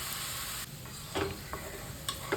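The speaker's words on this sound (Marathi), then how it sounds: "कांद्याचा कलर चेंज होत तोपर्यंत आपण हे परतून घेणार आहे तेला" Chopped onions stir and sizzle in hot oil in a pan, a steady frying hiss broken by a few scraping stirs, close and moderately loud with no talking.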